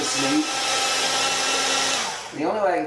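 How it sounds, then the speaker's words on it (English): An electric meat slicer cutting partly frozen beef for homemade jerky, a loud steady motor whine with a blade drone that dips briefly near the end and then surges again as the slice finishes. "Now this slicer's a little bit noisy, but I'll just do a couple slices."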